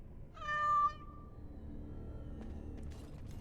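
Cat meowing in the Dragon Age Origins video game, a single clear drawn-out meow up close, followed by a quiet low rumbling game ambience and faint clicks.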